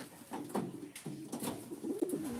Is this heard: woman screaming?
no